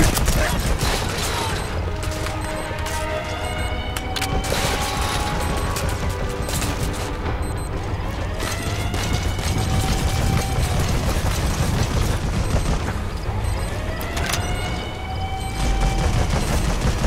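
An enemy fires a mounted machine gun in Metal Gear Solid V: The Phantom Pain, sustained rapid bursts of gunfire rattling continuously over a noisy battlefield, with other weapon and mechanical sounds mixed in.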